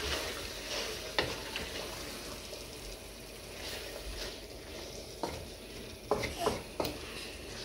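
Cauliflower and potato curry frying in a pan, a continuous soft sizzle with occasional stirring scrapes and clicks of a utensil, close and fairly quiet.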